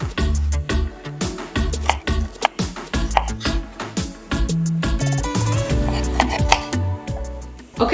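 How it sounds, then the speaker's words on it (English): A knife chopping apple and strawberries on a cutting board, with a string of close, sharp, fairly regular cuts; music plays underneath. "let's cut up our apple and strawberries."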